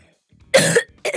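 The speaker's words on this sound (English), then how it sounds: "What's wrong with me today with coughing?" Two close, sharp coughs from a man playing a video game at home, the first longer and harsher, the second short and clipped, with silence in between.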